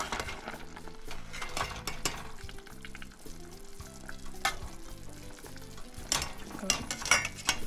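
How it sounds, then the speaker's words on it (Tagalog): Steady sizzling and bubbling from meat boiling in a pot on the stove for pork binagoongan, with occasional clinks and stirring noises throughout. "Okay, kumukulo na ang ating karne."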